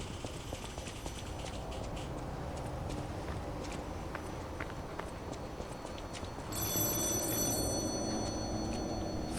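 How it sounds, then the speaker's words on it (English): A telephone in the video game Lies of P rings in a bright, steady tone that enters partway through, over a quiet backdrop of clip-clopping hooves and footsteps. "Phone's ringing."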